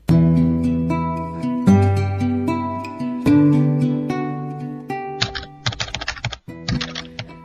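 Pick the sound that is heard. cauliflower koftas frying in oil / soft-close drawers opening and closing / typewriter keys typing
typewriter keys typing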